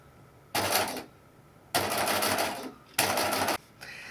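A sewing machine stitches around the arc of a dressmaking sleeve in three steady runs of about half a second each, with brief quiet pauses between bursts, close and clear with no talk.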